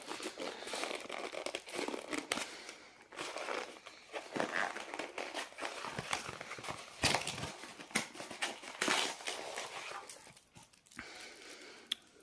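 A Beware of Traptrix Yu-Gi-Oh structure deck packet is torn open and its wrapper crinkled, giving a steady run of close, dense crackling and rustling with short bursts of tearing throughout.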